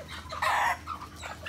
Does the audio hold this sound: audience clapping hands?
no